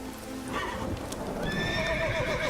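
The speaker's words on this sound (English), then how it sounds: "The horse won't move." A horse in The Witcher 3 lets out a loud neigh over clip-clopping hooves, the whinny rising and falling clearly in front of a steady game ambience.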